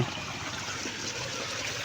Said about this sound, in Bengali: এই যে পানির শব্দ